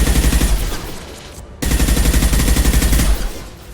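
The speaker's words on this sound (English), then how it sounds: "Firing a high-impact shot." Rapid automatic gunfire from the video game Mass Effect 2 comes in two loud, close bursts of tightly packed shots, split by a short silent gap and trailing off near the end.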